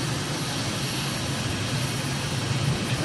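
Steady airplane engine drone in Microsoft Flight Simulator during a climb-out over Mauritius, a continuous broadband roar with a low hum, holding level and alone for about three seconds.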